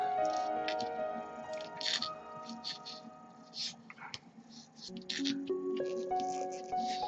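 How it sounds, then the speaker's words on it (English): Modelling clay being pressed and worked onto a miniature rock base, giving soft squishy presses and small crackling taps close up, with faint background music running under it. "all I'm doing is moving the clay onto the base and working out sizes"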